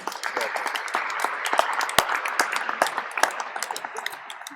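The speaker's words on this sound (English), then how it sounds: "I want a round of applause." Applause from an audience at a bid competition event, a steady patter of many hands clapping for about four and a half seconds with sharp individual claps standing out, voices faintly mixed in.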